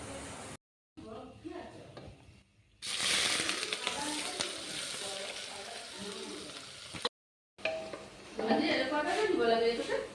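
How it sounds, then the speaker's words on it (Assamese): Sugar sizzling and crackling in hot oil in a pan as it browns for pulao, a steady loud frying hiss with brief stirring clatter, broken by short silent gaps, a voice speaking over the start. "তেল গৰম হৈ গ'ল, মই অকণমান চেনি দিছোঁ কালাৰ উঠিবলৈ।"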